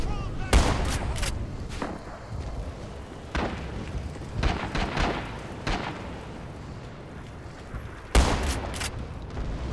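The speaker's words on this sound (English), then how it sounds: "I love how much range this shotgun has." A trench shotgun fires repeatedly in the video game Rising Storm. The booming blasts come at uneven intervals: some are sharp and close, others duller, with a voice speaking between shots.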